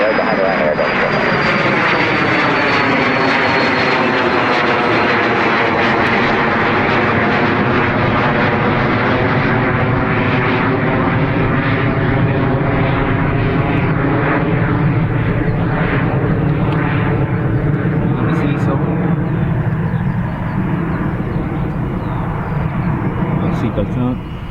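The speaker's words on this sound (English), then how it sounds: "Ryanair off to Hamburg" A Ryanair jet bound for Hamburg takes off from Dublin Airport's north runway with a loud, sustained engine roar and a sweeping pitch shift as it climbs past, continuous for the whole stretch.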